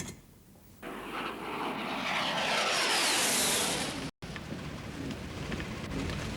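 A jump jet aircraft engine roaring, a broad rushing jet noise that swells loudly after a quieter opening, cuts out for an instant, then continues as a steady noisy rumble.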